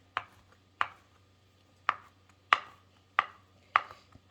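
A knife chopping food on a cutting board for vegan tacos, six crisp separate thuds at an uneven pace, close and clear over near silence, with no one talking.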